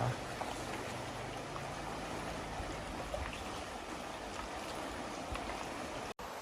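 A waterfall stream gives a soft, continuous rushing and trickling, faint and steady throughout with no clear voices on top.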